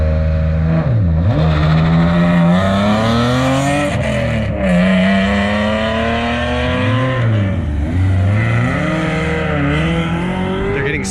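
Race cars of a handicapped pro racing series pull away together from the start at Thunder Hill, engines revving loudly through rising and falling gear changes, several cars overlapping in a dense, continuous roar with brief tire squeal.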